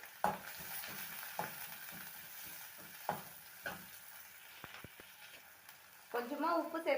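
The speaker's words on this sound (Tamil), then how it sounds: "இப்போ ஆனியன் சேர்த்து வதக்கிக்கலாம்." Onions sauté in oil after popped mustard seeds while a radish greens stir-fry is being cooked, a quiet, steady sizzle broken by soft spoon scrapes and taps in the pan, with a brief burst of voices near the end.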